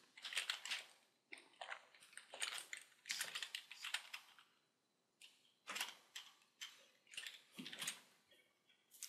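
Close, quiet typing on a computer keyboard, with clusters of rapid key clicks broken by short pauses and a longer gap partway through.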